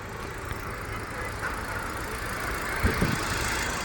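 A used car idles with its AC compressor and radiator fan running, a steady low engine hum under a broad fan whoosh, with a couple of faint thumps near the end.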